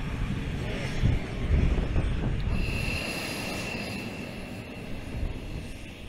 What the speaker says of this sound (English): the F-16 Fighting Falcons are fired up and directed towards the runway for takeoff